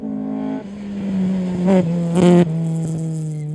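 Ford Escort MK2 classic rally car at the Safari Rally, a loud close engine drone holding a steady pitch with brief revving bursts and shifts, no voices.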